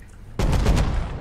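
Gunfire in the survival video game Rust erupts suddenly as a loud, close burst of rapid shots, then a sustained rattling tail with no talk over it.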